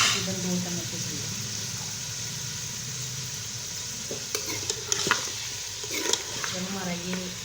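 Onions, tomato, yogurt and garlic paste fry in a pot with a steady sizzle, broken by several sharp clinks of stirring, while a voice speaks at the start and again near the end.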